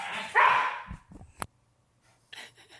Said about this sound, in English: We're stuck with the barks now.